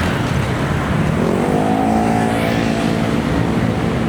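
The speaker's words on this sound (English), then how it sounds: "you're always going to have the cars that go past the red light" Cars stream past through a red light on a busy Bangkok street, a loud continuous rush of engines with one vehicle revving and sweeping by up close, no voices.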